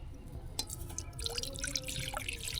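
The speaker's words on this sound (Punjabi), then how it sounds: "ਪਾਣੀ ਪਾਵਾਂਗੇ" Water is poured into a large pot for cooking jaggery rice, Punjabi style, producing a soft, faint trickling splash after a brief metallic knock, with no talking.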